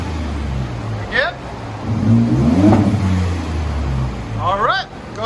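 A 2016 Ford F-150 with a 3.5L EcoBoost V6 and Borla Pro XS dual exhaust revving up and easing off in a couple of swells, close and loud, with people talking over the engine.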